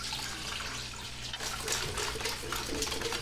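Water pours steadily into a bowl for crepe batter, a soft, continuous splashing hiss heard close and alone for a few seconds.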